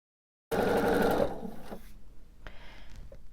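A sewing machine stitches together columns of a quilt top, a fast loud mechanical whirr that starts abruptly, runs about a second, then continues in lighter uneven bursts.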